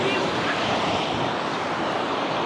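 Sea waves wash onto a beach in Odesa, a steady loud broadband surf roar with wind noise across the whole short stretch.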